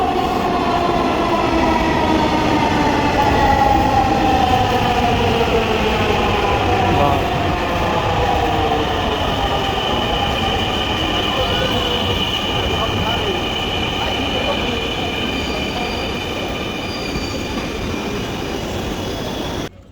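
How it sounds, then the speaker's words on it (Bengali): A Dhaka Metro Rail train pulls in and runs, a loud, close, continuous rumble with rising and falling electric motor whine and steady rail noise for about twenty seconds, cutting off abruptly at the end. "ট্রেনের দরজা বন্ধ হয়ে গেল আর অল্প কিছুক্ষণের মধ্যে ট্রেন ছোটা শুরু করে দিল"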